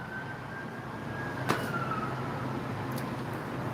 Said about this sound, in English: Listen to the sirens that's getting ready to come by.